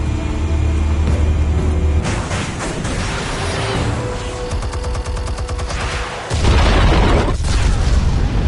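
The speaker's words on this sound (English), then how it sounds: "Explosives armed. Fire when ready." Explosives detonate in a rapid chain of loud booms and crackling bursts, overlapping into a dense barrage before a final deep, heavy blast rolls out close and powerful.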